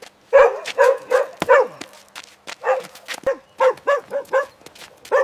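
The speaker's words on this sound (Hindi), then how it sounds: "कुत्ता रोज यहाँ पीछे 3 सालों से भौंक रहा है" A dog barks repeatedly behind a factory, loud and close, a rapid run of sharp barks with brief pauses and a few yips in between, no talking.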